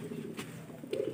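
A pigeon coos softly nearby, a low throaty murmur with a couple of faint rustling sounds.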